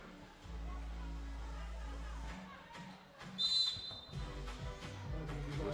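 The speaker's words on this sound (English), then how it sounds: "Whistle on the floor." Short referee whistle blast at a women's FIBA 3x3 basketball game in Chengdu, a single piercing tone over arena noise, followed by a commentator speaking.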